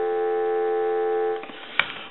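A repaired Duck telephone gives a steady, fairly loud dial tone for about a second and a half. It cuts off abruptly and is followed by faint handling noise and a sharp click.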